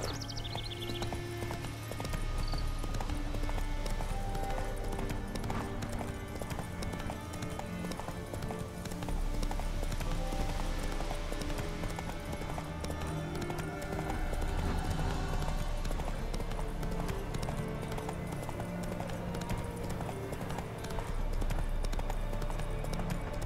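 Hooves of a horse in The Witcher 3 video game clip-clop at a steady walking pace over continuous game ambience and music, moderately close.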